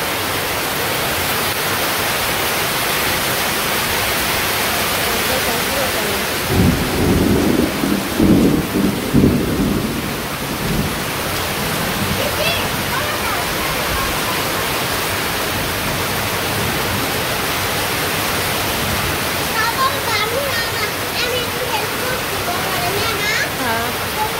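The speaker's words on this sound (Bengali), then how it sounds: "বৃষ্টিটা হচ্ছে দক্ষিণ দিক থেকে" Heavy rain pours steadily in the countryside, a dense wash of noise throughout, with a deeper roll of thunder rumbling through the middle and faint voices at times.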